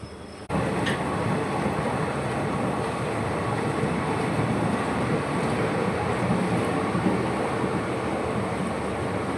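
The Chennai to Rameswaram Pamban Express passenger train runs steadily with a dense, continuous rumble and rattle that holds at an even loudness throughout, with no voices.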